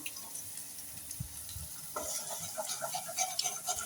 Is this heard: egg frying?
yes